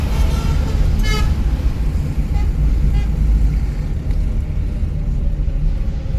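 A driving-school car in Solan gets throttle and pulls away with a steady, loud low engine rumble under road noise, while a few short horn toots sound early on.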